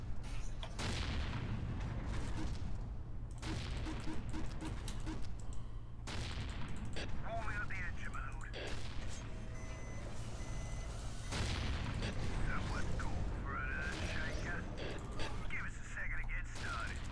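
Imperial Guard artillery booms and bursts of gunfire from the Dawn of War Ultimate Apocalypse mod, rumbling in dense layers of battle noise with unit voice lines and beeps mixed in.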